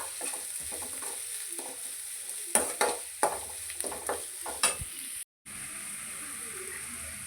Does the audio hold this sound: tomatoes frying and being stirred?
yes